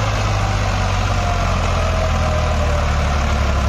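An HMT 3522 tractor stuck in wet, muddy soil with bald tyres runs its diesel engine close by, a loud, steady low rumble that holds without change.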